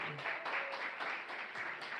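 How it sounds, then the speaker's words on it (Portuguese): Church congregation clapping in praise, a soft, sustained patter of many hands heard from a distance, steady for about two seconds with faint voices mixed in. "Uma salva de palmas para Jesus de Nazaré."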